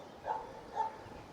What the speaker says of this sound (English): there are cows, and there is a barking dog